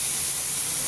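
Chopped onion, garlic and a fish head frying together in oil, a loud, continuous close hiss of sizzling for under a second, with no talking.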